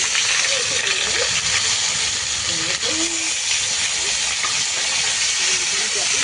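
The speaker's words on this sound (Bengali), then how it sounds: "পেঁয়াজটা আমি লাল লাল করে ভেজে নেব" Garlic, green chili and onion fry in hot oil flavored with dried fish, giving a loud, continuous broadband sizzle and hiss with faint crackles throughout.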